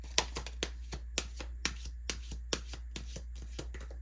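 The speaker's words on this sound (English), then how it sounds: "I'm not the best at shuffling, but that's okay" A new deck of tarot cards is shuffled by hand in close, crisp riffling bursts, about a dozen quick shuffles in a loose rhythm over a low steady hum.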